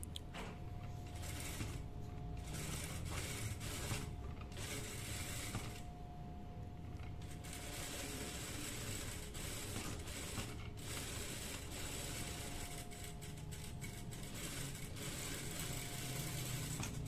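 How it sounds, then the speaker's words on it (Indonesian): Sewing machine stitching the side pocket of a pair of trousers, a continuous close mechanical whirr and clatter with short pauses between runs and no talk. "Ini kita jahitkan ya di sebelah kanan jahitan sisi sakunya."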